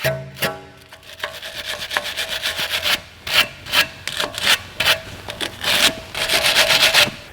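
Dirt and rust being scrubbed off a BMW rear suspension bushing, a dry rasping rub in repeated short strokes, close and fairly loud, with no talking.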